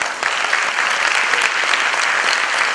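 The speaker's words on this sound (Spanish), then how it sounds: "los aplausos para el ingeniero Castro Maldonado Fuentes." A room full of people clapping steadily after an engineer's talk on cacao farming, dense and sustained applause at fairly close range, with no speech over it.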